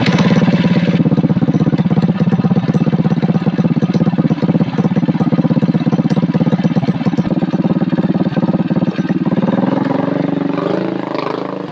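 A Coleman CT200U-EX trike engine with a new stage one exhaust runs steadily, a loud throaty idle with a rapid even pulse, close to the listener, its note shifting slightly near the end.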